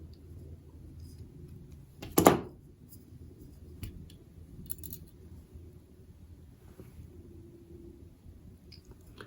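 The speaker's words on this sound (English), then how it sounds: "using the wire cutters, I can clip that right off" Wire cutters snip through copper wire and tying thread on a fly-tying hook in one crisp, close click. Quiet room ambience and faint handling noises follow.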